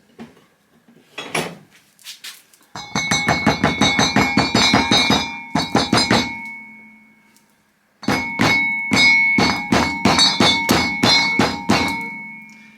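A support cover is tapped down onto a Porsche 928 rear damper with sharp metallic strikes in two quick rhythmic bursts, ringing and close, separated by a short pause.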